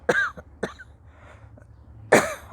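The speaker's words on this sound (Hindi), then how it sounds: "ज़रा खांसी का भी दौर चल रहा है" Two short coughs, then a pause with faint throat noise, then another sharper cough, close to the microphone in a quiet room.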